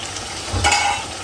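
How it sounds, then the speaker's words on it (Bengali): Spice masala made with turmeric powder fries in a pan while it is stirred, giving a steady close sizzle with one brief scrape-and-stir swell near the middle. No one speaks. "এখন মশলাটাকে ভালো করে কষিয়ে নেব।"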